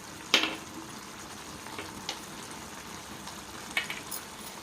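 Curry leaves dropped into hot oil for a ridge gourd masala curry, giving a soft steady sizzle with a few sharp crackling pops scattered through.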